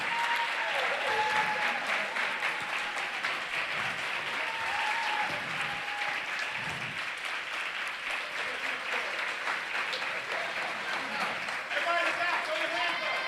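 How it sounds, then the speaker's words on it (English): Sustained audience applause and cheering fill an awards ceremony hall for the Last Minute 2025 Film Prize Grand Champion, dense clapping steady and loud throughout with crowd voices mixed in. "give a huge round of applause for Last Minute"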